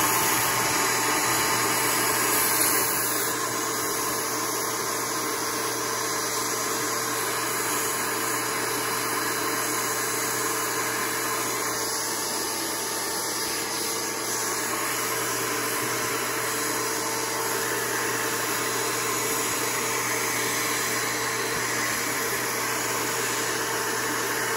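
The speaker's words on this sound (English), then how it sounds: "You can go ahead and vacuum them." Constant loud whine of a vacuum running steadily while honey bees are sucked out of a large hive inside a house, an unbroken drone with a faint hum underneath.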